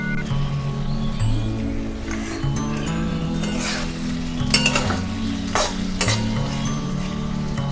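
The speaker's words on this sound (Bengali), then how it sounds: "এবার এই মশলাটাকে ভালো করে ভেজে নিতে হবে" Spice paste with tomatoes fries in a pan for a Bengali lote fish jhal, a steady loud sizzle broken by spatula scrapes and sharp metallic clinks of stirring.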